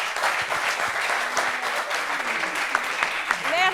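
An audience bursts into sustained applause at a gathering where people share testimonies of miraculous healing, a dense, even wash of many hands clapping throughout, with a voice briefly rising over it near the end.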